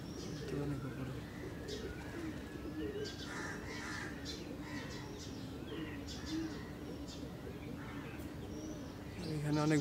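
Pigeons coo softly in a loft, with faint chirps scattered through a quiet, low-level background and some indistinct human voices.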